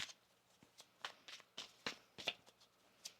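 Tarot cards are shuffled close by in quick, soft riffling bursts and taps, irregular and fairly quiet, with no voices.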